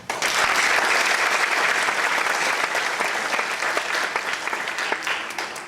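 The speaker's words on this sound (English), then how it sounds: "shall we all clap our hands together?" A crowd at a celebration event claps their hands together, a dense, loud, sustained round of applause that starts abruptly and tapers slightly near the end.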